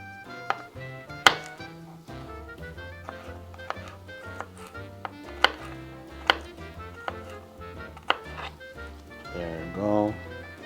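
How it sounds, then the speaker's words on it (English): A knife mincing garlic on a cutting board for cowboy beans, giving fast irregular chopping taps, some sharp and loud, with a few pauses and a softer clatter near the end. "You want to mince that nice and thin."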